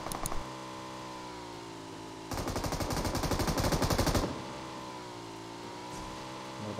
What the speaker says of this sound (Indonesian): Teman gue ada nembak.